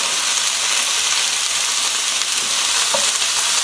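Vegetables stir-frying in a hot wok for crispy chilli beef with noodles, a loud, dense, continuous hissing sizzle that holds steady throughout, with one faint clink near the end.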